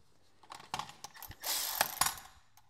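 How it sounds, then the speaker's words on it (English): A ratchet fitted with a 13 mm socket loosens a nut, giving close, uneven bursts of clicking and metallic rasping, with a denser, louder run of ratcheting midway and no talk. "So I'm going to put a 13 millimeter wrench on it, and then 13 millimeter socket on my ratchet."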